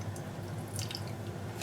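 Water poured from a glass into a bowl of tamarind to make golgappa pani gives a steady, close splashing hiss with light dripping throughout, with no talking.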